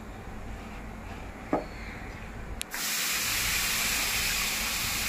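Thalipeeth flatbread of sprouted green moong, jowar and bajra placed on a hot tava with a little oil, which bursts into a sudden loud, steady sizzling hiss after a quiet start with a couple of faint knocks.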